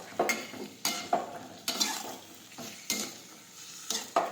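Chopped tomatoes sauté in a pan for a Gujarati okra curry, a spatula scraping and stirring in repeated strokes roughly once a second over a steady soft sizzle, close and alone.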